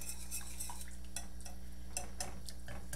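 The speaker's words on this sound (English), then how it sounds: "I'm just going to stir this until the cheese melts" A spoon stirs homemade macaroni and cheese sauce with turmeric until the cheese melts. It gives light, irregular scraping and tapping clicks against the pot over a steady low hum, with no talking.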